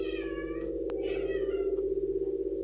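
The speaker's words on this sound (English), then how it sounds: "You're not a poltergeist, you're a cat." A house cat meows in a string of clear, close cries over a steady low hum, with no talking.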